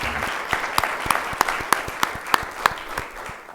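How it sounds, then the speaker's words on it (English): Audience applause at a board of education meeting, a steady patter of clapping from a modest crowd with several sharper individual claps standing out, filling the short stretch without talk. "Let's give Miss Rachel Frazier a huge round of applause as well"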